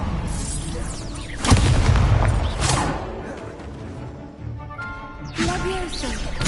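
An Incendio fire spell cast in Hogwarts Legacy bursts with a loud booming whoosh, followed by a second swelling blast and crackling game effects, then another burst near the end.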